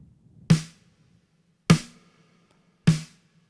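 An original acoustic snare drum sample strikes three times at an even, unhurried pace, each hit a sharp crack with a short ringing tail, alone and clear.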